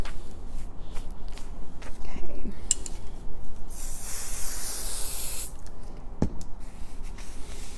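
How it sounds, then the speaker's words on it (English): A can of quilt basting spray hisses in one strong burst of about a second and a half onto quilt fabric, with light rustling and handling of the fabric before and after. "So we just use the spray base, just use a little bit"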